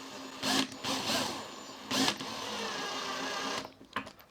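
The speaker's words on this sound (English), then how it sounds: "put this screw in" A power drill drives a screw in with short high whirring bursts, stopping and restarting a few times, fairly close and alone before it cuts out.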